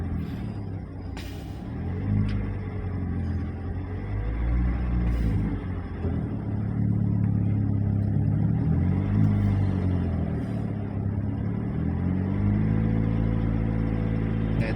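A car accelerating during a first-day driving lesson, its mid-pitched engine rising and holding steady as the driver applies gas, close and continuous, with no talking.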